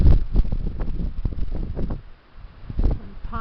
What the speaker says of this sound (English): Wind in the willows